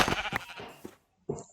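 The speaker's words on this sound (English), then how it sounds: "where I found myself a few sheep" Sheep bleating in the video game Minecraft, two or three short, nasal bleats separated by a brief silence, fairly soft and heard alone without talk.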